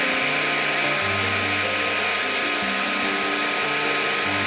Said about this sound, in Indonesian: Lanjut di blender lagi sampai halus